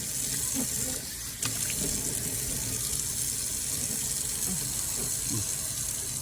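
Tap water runs steadily into a bathroom sink as a face is washed on a hot day, a loud continuous splashing hiss with small irregular splashes throughout and no talking.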